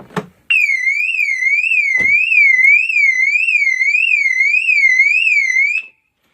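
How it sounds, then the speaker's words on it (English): Mercedes C230 car alarm triggered by opening a locked door, sounding a loud, continuous warbling wail that rises and falls steadily for about five seconds before cutting off, preceded by a short door clunk. "The alarm should go off."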